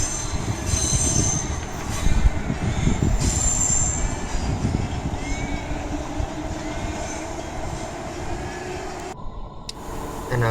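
A train rumbles slowly into a buffer stop with metallic wheel squeals drawn out over a low, steady rolling noise, ending with a brief clunk.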